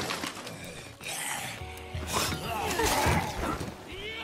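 Glass window shattering in a video game: a sharp, bright crash of breaking glass with scattered debris, heard amid ongoing talk from players.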